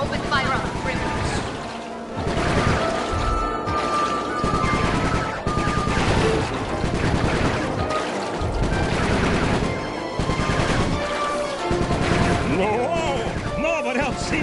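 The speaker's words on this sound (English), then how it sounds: "All right, pilot, double back and open fire on the criminals." Gunfire from the pilot's aircraft in the video game Sly 3, a loud, sustained barrage of rapid shots and blasts that rises and falls over about fourteen seconds, layered with other busy game sounds and tonal music.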